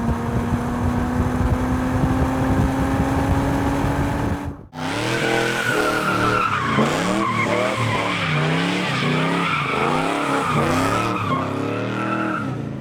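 An engine roars steadily, then after a brief break tires squeal in repeated wavering bursts as a car does a burnout at the Spring Mountain racetrack, loud and close.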